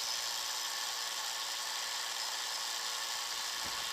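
Electric conversion motor on a Surly Wednesday fatbike with a Rohloff hub, held at full thumb throttle: a steady high-pitched whine with continuous broadband hiss, constant and close throughout with no talk.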